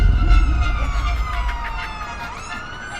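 An ambulance siren wails loudly and close, its pitch sweeping up and down repeatedly over the rumble of traffic.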